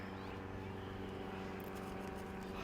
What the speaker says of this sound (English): Do you hear an airplane?